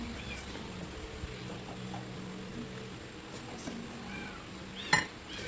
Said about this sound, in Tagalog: Yan, takpan muna natin.